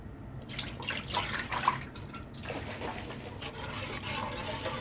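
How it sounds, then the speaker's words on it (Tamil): Buttermilk poured into a pot while making Tamil-style rasam, a steady liquid trickle and splash at close range, running continuously with slight surges and no talk over it. "இப்போ இதில் மோர் ஊற்றிக்கலாம்."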